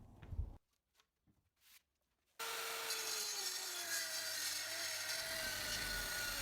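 After a few faint knocks and near silence, a circular saw bites into a wooden plank and cuts steadily, a loud sustained whine with a slowly shifting pitch that continues to the end.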